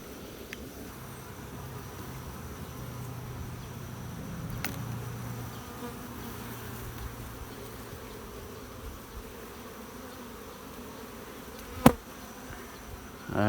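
Honey bees buzz steadily around hive boxes just after a swarm, a continuous low hum at moderate distance with a sharp click near the end.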